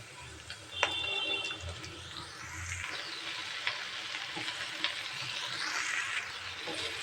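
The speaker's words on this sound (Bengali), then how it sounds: "আমি না ঢেকেই শাপলা ভাজি করব।" Water lily stems fry uncovered in a pan with chili and onion, producing a steady moderate sizzle with occasional stirring clicks throughout.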